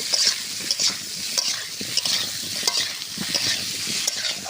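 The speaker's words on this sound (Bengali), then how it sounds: "আলুগুলো সুন্দর করে ভেজে নেব" Potatoes frying in hot oil give a steady, dense sizzle, close and fairly loud, with soft stirring scrapes mixed in and no talking.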